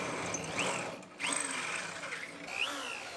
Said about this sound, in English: So we're going to drill out our spot welds.